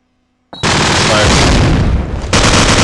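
Gunfire erupts in a Call of Duty 4 competitive match after a brief silence, a loud, dense fusillade of rapid shots that continues steadily, with a fresh burst near the end.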